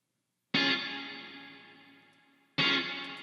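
Two clean neo soul electric guitar chords, each struck sharply and left ringing with heavy reverb that decays slowly into a long tail; the second hit lands about two seconds after the first, with no voices.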